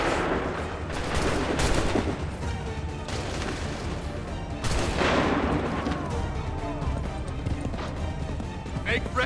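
Musket volley from a line of soldiers in Assassin's Creed III, dense bursts of gunfire around two and five seconds amid continuous battle noise, with horse hooves and shouted voices mixed in.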